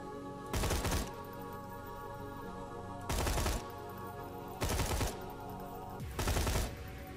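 Ravager shotgun blasts in Borderlands 2, four loud booming shots spaced a second or two apart over a low steady game background hum.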